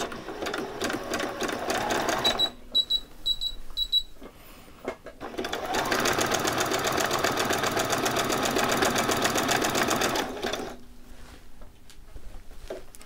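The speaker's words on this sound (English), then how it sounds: "just go straight across with a zigzag stitch" Sewing machine running a zigzag stitch across T-shirt fabric, a rapid close mechanical whirr in two bursts, a short one with a pause, then a longer steady run before slowing to quiet handling.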